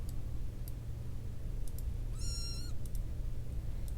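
One short, tonal cat meow in the video game Stardrop over a low steady hum, with a few faint clicks scattered before and after.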